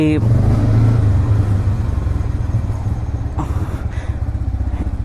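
A Yamaha R15 motorcycle fitted with an aftermarket exhaust runs on a night ride. Its engine keeps up a continuous low, throbbing drone while people talk over it, and a few brief sharper bursts come near the end.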